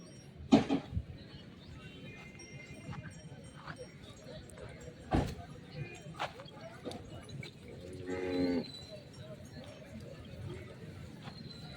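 Bullocks at a rural cattle market moo in a few deep calls, one early and others later, heard close against open-air background noise with occasional clunks.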